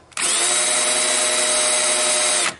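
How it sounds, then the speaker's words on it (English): Power drill boring a hole through a car door panel, one loud continuous high whine that starts abruptly, holds steady for about two seconds, then stops. "So I'm gonna drill a hole here."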